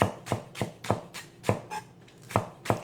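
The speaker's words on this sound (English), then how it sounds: "I'm going to use the whites of the scallion, and I'm chopping them fairly thinly." Scallion whites are sliced thinly with a knife on a cutting board, giving about nine crisp, evenly spaced knocks close by, with no talking.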